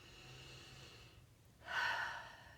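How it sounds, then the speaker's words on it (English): A deep breath drawn in and then let out in a long, soft exhale, close and fairly quiet, during a mini EFT tapping session. "Big breath."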